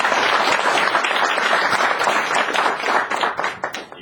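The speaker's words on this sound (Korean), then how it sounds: "본인과 가족들을 위해서 우리 큰 함성과 함께 박수 한번 치실까요?" An audience at a graduate school executive programme completion ceremony claps, dense and steady at first, then thinning and tapering off toward the end.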